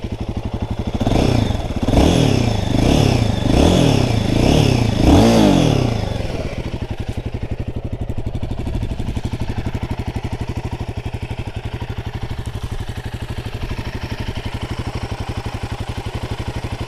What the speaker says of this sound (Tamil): என்ஜின் நாய்ஸுமே இந்த வண்டியில் இருக்குங்க.